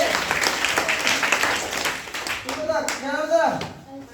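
Classmates clap for a student's correct answer in a classroom, a steady patter of applause running throughout, with a voice speaking over the end.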